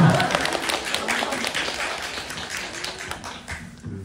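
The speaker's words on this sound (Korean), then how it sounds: "박수를" A library talk audience applauds the cast and director of a Korean film, a dense patter of many hands clapping, loudest at the start and gradually thinning and fading out toward the end.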